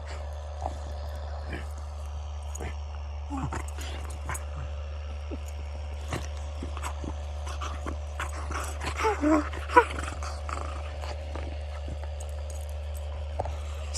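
A pet sausage dog (dachshund) named Frankie on a farm gives a few scattered, fairly distant barks and yips, with a busier cluster in the middle, over a steady low hum.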